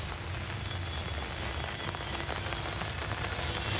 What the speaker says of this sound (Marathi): कधी-कधी मुसळधार पाऊस सुद्धा होतोय